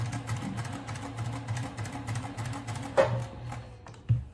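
A sewing machine stitching the side seam of a tote bag, a close, fast, even mechanical rattle running throughout, with a couple of sharp clicks near the end.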